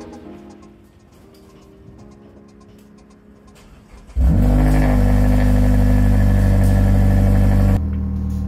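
A Mazda car with a Mazdaspeed axle-back exhaust idles quietly for about four seconds, then the engine suddenly revs up loud and holds a deep, steady roar up close before cutting back down near the end.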